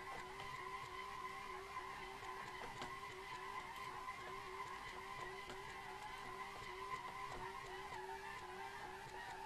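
Tires on a Tofaş car skid and squeal steadily through a drift on a mountain road in Assetto Corsa, with a sustained engine tone and no voices.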